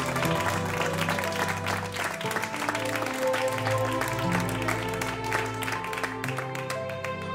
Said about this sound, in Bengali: সবাই হাততালি দিচ্ছে।